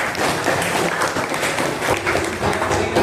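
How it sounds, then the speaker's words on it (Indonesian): Students in a classroom clap together, a dense and loud burst of close applause with uneven individual claps that continues steadily for about three seconds. "Tepuk tangan dulu."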